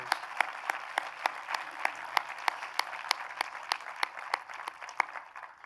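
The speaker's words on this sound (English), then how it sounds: "Round of applause for members of our boards, our alumni, our volunteers." Applause from an audience at a university president's convocation address, a steady, moderately faint wash of many clapping hands with regular sharper claps standing out, continuing evenly throughout.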